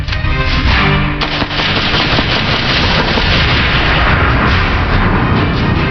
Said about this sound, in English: That was a bomb that we had rigged to go off.